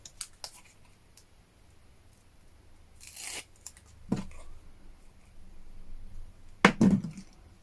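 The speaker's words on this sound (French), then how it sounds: "remettons ici un petit bout de scotch double face" A small piece of double-sided tape is torn off while making a handmade May Day greeting card. It comes as a few short, crisp ripping and crackling bursts spread across an otherwise quiet stretch.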